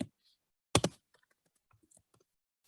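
A computer keyboard is tapped while a command is entered at a command prompt: one sharp loud clack, then a run of lighter, quieter key clicks close by.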